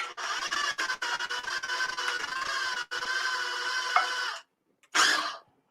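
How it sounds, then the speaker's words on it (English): A KitchenAid food processor whirs in harsh, rattling bursts, running for about four seconds with brief dropouts, then stopping and starting again for a short final burst close by. "Okay, KitchenAid food processor."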